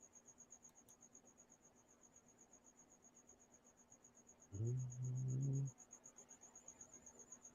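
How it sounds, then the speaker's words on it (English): Crickets chirp indoors in a room lined with hanging clothes, a faint, steady high pulsing trill that runs throughout, briefly masked by a louder hum partway through. "So the crickets are yelling."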